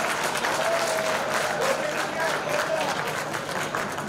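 An audience in a hall breaks into sustained, dense applause, a steady wash of clapping from many people with some crowd voices mixed in.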